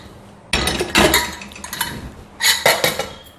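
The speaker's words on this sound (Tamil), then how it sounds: "நான் ஒரு குக்கர் எடுத்துட்டேங்க." A metal pressure cooker is lifted and handled in a home kitchen, giving two loud bursts of clanking and clinking metal with a quieter rattle between them.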